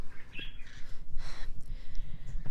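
Pet birds chirp indoors with scattered bright tweets and calls over a constant low background rumble, moderately close but not loud.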